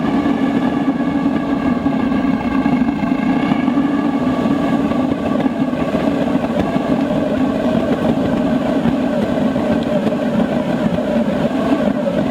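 A tabletop waste oil burner runs with its blower on, making a constant loud roar with a steady rumbling hum that stays even the whole time, with no speech.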